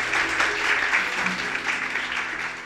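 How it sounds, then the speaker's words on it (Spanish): A church congregation claps loudly and steadily together in a broad, sustained wash of applause that holds through the whole span, with no talk over it. "Dele un fuerte aplauso al Señor"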